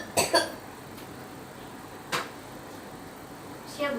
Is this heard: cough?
yes